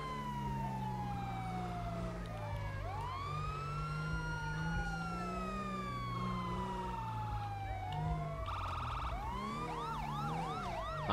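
An ambulance siren on the road wails continuously with rising and falling sweeps that shift into a faster yelp pattern near the end, loud and close over a low engine rumble.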